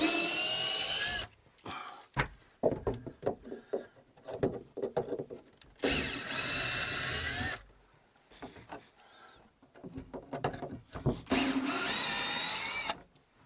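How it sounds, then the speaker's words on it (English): A power drill backs screws out of RV bunk paneling in short whirring bursts separated by pauses, close and fairly quiet, with brief rattles and handling noises between runs. "I don't know how to work a drill."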